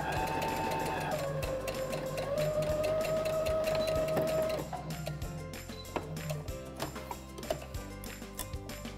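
Sewing machine stitching down pressed hem edges, a steady rapid mechanical whir and ticking throughout, moderately quiet and close, with a motor tone shifting partway through.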